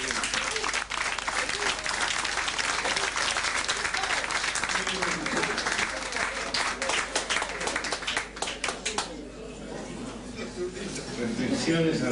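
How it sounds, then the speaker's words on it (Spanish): A room full of people at a Grupo de Reflexión Rural gathering claps in a dense, steady burst, then the applause thins and fades after about nine seconds into a quieter murmur. "vamos a dar otro aplauso"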